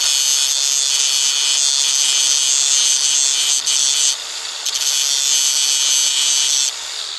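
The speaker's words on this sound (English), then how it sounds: "you just kind of want to grind it down until you can see the outline in the metal of the rivet" A file or grinder works down a rivet head on a broken chainsaw chain by hand, making a loud, continuous close-up rasping, abrasive hiss that runs the whole time with only brief dips.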